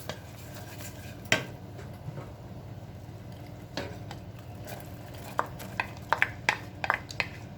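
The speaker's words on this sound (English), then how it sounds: "Stirring well to combine it all." Fruit being stirred into orange juice in a pot off the heat for a bread-style fruit cake: quiet, soft scraping with sparse spoon clinks against the pot, and sharper taps clustering near the end. No one speaks.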